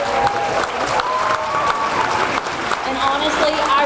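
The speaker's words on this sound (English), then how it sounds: "Please give another warm round of applause to these girls." Audience applause at a peanut festival queen's banquet, steady dense clapping filling the room for several seconds with some crowd noise mixed in.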